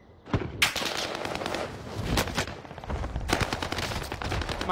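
Rapid bursts of automatic gunfire in a video game, loud and close, with sharp cracks and rattling volleys filling the whole stretch.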